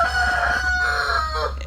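Cricket the rooster crows to call the hens, a single sustained, loud crow close by that fades at the end over a steady low background hum.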